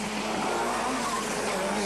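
A Mazda rally car at the 1997 Rallye des Géants, running with suspension and rear-end trouble, passes close by with a loud, steady engine roar and some tyre noise throughout.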